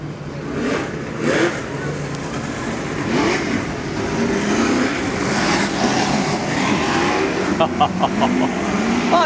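Superstock race cars roar around the Wellington track, several engines droning and rising and falling in pitch as they pass close by in a loud, continuous blur, with faint voices underneath.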